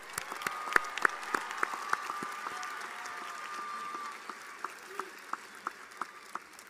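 An audience at a commencement ceremony applauds the graduates with sustained clapping that thins to scattered claps near the end.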